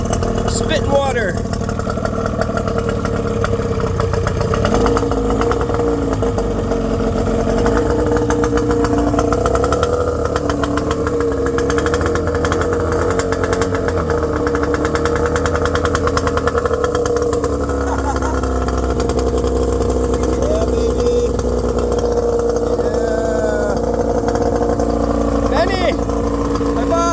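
A 20hp Yamaha outboard motor on a boat idles steadily and close for the whole stretch, its pitch wavering slightly as it runs. Someone speaks over the engine now and then.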